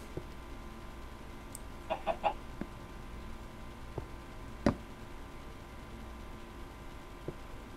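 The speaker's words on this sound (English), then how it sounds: "I can keep the chicken inside here." A chicken in Minecraft Pocket Edition gives a few short clucks, with quieter scattered game ticks and clicks around them, alone and without talk.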